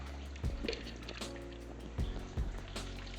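Water poured into the top of a homebrew setup trickles over brewing grains for a competition beer, a soft liquid dribble with a few splashy drips and thuds over a steady low hum, no voices.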